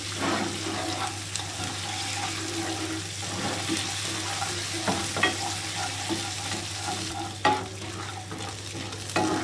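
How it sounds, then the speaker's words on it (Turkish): Butter added to melted sugar for trileçe caramel, a continuous close frying hiss with a low steady hum beneath and scattered stirring clinks and taps. "İçerisine yarım yemek kaşığı yağ ilave ediyorum."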